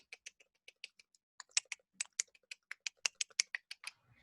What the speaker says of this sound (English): you hear the clicking start.